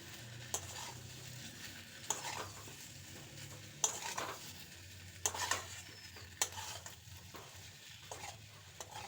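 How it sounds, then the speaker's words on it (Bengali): Boiled gathi kochu taro being stirred into a spice paste in a pan, a steady run of scraping, clacking spoon strokes against the metal with a soft sizzle underneath, close and fairly quiet with no talking. "কচুগুলো দিয়ে মশলার সাথে খুব ভালো করে মিশিয়ে নেব।"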